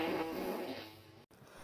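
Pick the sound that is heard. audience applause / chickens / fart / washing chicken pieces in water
fart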